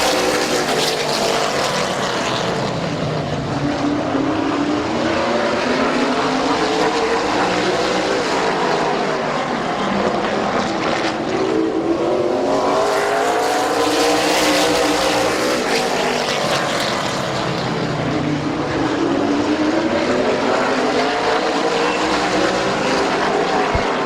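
Late model race cars in an 8-lap heat race at Midvale Speedway, loud engine roar that swells and fades in repeated waves as the pack circles the track, with no speech.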